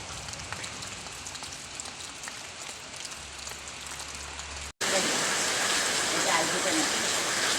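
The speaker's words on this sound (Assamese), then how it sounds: "আৰু এয়া বৰষুণ দিয়ে আছে।" Steady afternoon rain falls continuously, a dense hiss of drops that grows noticeably louder and brighter partway through, with a voice speaking over it.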